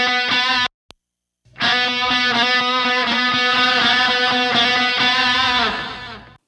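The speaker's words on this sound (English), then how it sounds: "So a lot of reverb on these guitar solos," A distorted electric guitar plays sustained, soaring lead notes drenched in arena-style reverb, loud and full after a brief cutoff near the start, recreating a classic rock solo sound.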